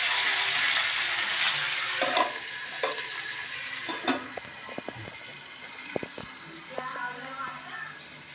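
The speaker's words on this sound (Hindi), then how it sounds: "अब आलू और गोभी डाल लेते हैं।" Potatoes and cauliflower fry and sizzle in a pan while being stirred, with steady frying hiss and intermittent scraping and clatter of a spoon against the pan, close up.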